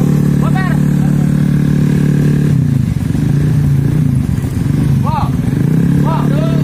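Honda Scoopy scooters with open 130cc automatic engines racing head to head, giving a loud, steady engine drone throughout, with brief voices rising over it.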